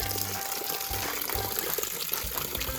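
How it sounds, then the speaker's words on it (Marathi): Water gushes steadily from a motor pump outlet in a coconut and areca nut garden, a continuous close splashing flow with intermittent low rumbling underneath. "हे पाणी आहे, इथे पाणी येतं"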